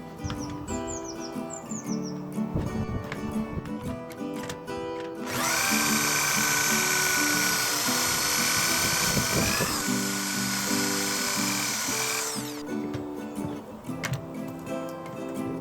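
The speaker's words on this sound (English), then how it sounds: "I used a pocket hole jig when joining the frame together." A power drill bores pocket holes in wood using a pocket hole jig while a camper pull-out bed frame is built, one sustained loud whirring run of several seconds between quieter ticking and bird chirps.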